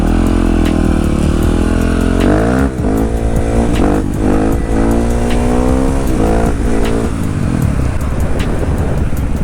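A 450 motorcycle engine revs hard under acceleration, a loud, close, continuous roar that climbs in pitch through repeated surges with brief shifts between them.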